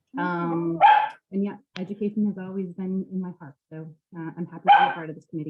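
A dog barks sharply twice, a few seconds apart, close by and loud. It cuts through a person talking steadily during a board meeting.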